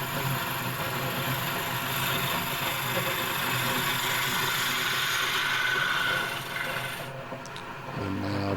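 Irish Strawberry (madrone) wood being shaped on a lathe with a gouge to rough out a darning mushroom handle and undercut the cap, giving a steady, close scraping rasp that runs unbroken with no talk.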